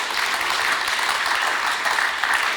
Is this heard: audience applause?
yes